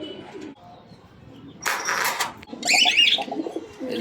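Pigeons kept for sale coo in short, close bursts, with a brief flutter and chirps between the calls.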